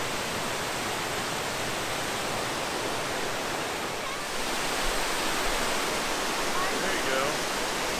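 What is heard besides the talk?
waterfall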